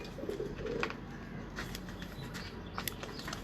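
A lightweight pigeon coos faintly in a couple of short low phrases early on, followed by quieter background sounds.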